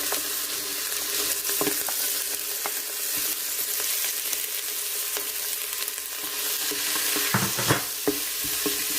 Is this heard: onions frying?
yes